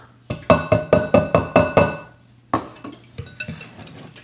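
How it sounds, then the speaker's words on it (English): A spoon or whisk knocks against a bowl while sugar and flour are mixed for a peanut butter pie, giving about eight regular ringing clinks, then a pause and a looser run of lighter scraping taps. "And we're just gonna mix it good."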